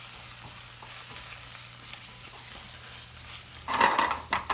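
Chorizo frying in a pan with paprika, sizzling steadily while a spatula scrapes and lifts the stuck bits. Clear scraping strokes and light clinks of metal on the pan come through, growing louder near the end.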